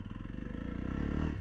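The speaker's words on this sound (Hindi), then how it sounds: "तो चलिए बाइक को चलाते हैं" A 2023 Jawa 42 2.1 cruiser motorcycle engine throbs with a rapid pulsing beat, building slightly in loudness over a brief stretch.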